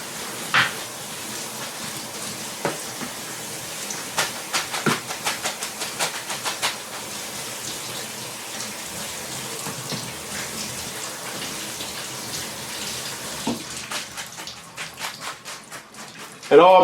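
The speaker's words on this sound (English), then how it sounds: "And then run it under cold water." Cold tap water runs steadily over cooked noodles in a colander, a continuous splashing wash with scattered clatter near the end.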